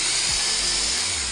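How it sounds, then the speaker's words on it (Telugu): An ibell electric screwdriver fitted with a concrete bit drills into a solid cement block, giving a loud, steady, high-pitched whine that holds without a break. "ఇప్పుడు నేను మీ సాటిస్ఫాక్షన్ కొద్దీ కాంక్రీట్ మీద డ్రిల్ చేయడానికి అయితే ట్రై చేద్దాం"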